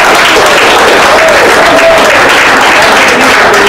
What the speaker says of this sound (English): Let's give Catherine a round of applause.